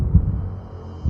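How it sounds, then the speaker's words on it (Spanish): A heartbeat sound effect in a short film gives two deep, muffled thumps, one near the start and one at the very end, set over a low hum. "Empecé a pensar que alguien más podría escuchar ese latido de corazón."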